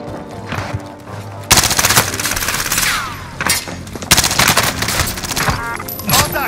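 Long, loud bursts of rapid machine-gun fire rattle in a Warzone Rebirth match, broken by short pauses, with sharp shots and faint background game sounds between volleys.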